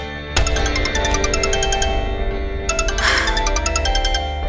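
A phone ringtone plays a repeating electronic melody, a steady run of bright tones that pauses briefly and then starts again, fairly loud and close.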